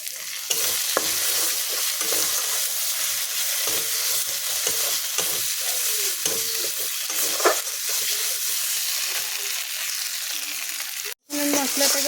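Chopped onion frying in a pan for egg curry, a steady loud sizzle with stirring scrapes throughout, cut off by a momentary gap near the end.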